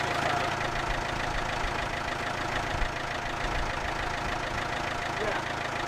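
A forklift engine idles in a steady, rough diesel-like drone while the forks are lowered a little on an oak-frame barn conversion site. The running engine sits close and even throughout, with no clear separate sound of the forks moving.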